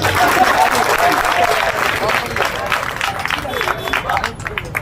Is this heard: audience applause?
yes